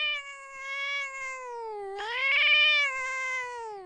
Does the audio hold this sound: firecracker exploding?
no